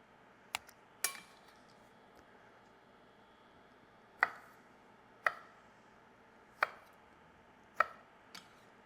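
A knife chops tomatoes into eighths on a cutting board, six or so distinct sharp knocks spaced about a second apart, close and clear over a quiet room.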